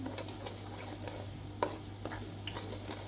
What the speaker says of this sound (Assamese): এতিয়া মই তেলত এইখিনি দি দিছোঁ এইখিনি অকণমান লৰাই ল'ম